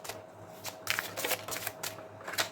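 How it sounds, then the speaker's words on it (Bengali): Tarot cards being shuffled by hand, a run of soft, papery riffles and rustling bursts coming in quick irregular waves, close and fairly quiet, with no voices. "আমি আবার সাফল করছি"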